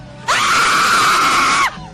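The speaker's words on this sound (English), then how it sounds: "We're gonna scream real loud." A single loud, sustained human scream from a man at a rock radio station event, about a second and a half long, rising sharply and then cutting off, heard alone and close.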